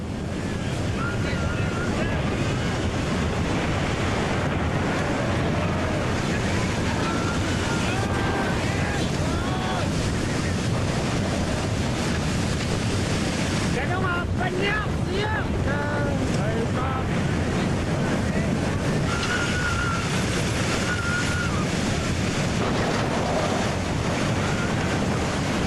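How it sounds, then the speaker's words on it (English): Water surging into a shallow fjord harbor, a loud continuous wash of surf and churning water buffeted by heavy wind noise, with faint voice-like traces at moments. "when the wave reaches the shallow water of the harbor,"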